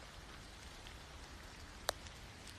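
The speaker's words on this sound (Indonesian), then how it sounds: "Hujan itu sejuk, menenangkan, dan katanya membawa berkah, ucap Mima." Rain falls as a soft, even hiss that continues steadily throughout, faint and distant, with a single sharp drip or tick standing out near the end and no voices.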